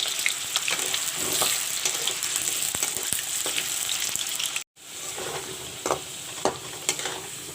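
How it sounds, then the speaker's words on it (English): Potato pieces frying in hot mustard oil for a green banana curry, a loud, continuous close sizzle with utensil scrapes and stirring clatter, cut by a brief drop out partway through, no talking. "First I will fry the potatoes."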